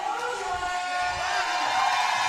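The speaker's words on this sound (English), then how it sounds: "Big cheer in the crowd for Rogue Runner" Crowd at a roller derby bout cheering for a lead jammer in the final jam, a broad steady roar of many voices, fairly distant and sustained, swelling slightly toward the end.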